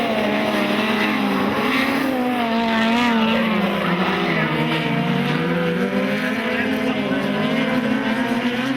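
Speedcars racing around Maryborough Speedway at night, engines roaring continuously at high revs with pitch rising and falling as they pass through the turns, loud and sustained throughout.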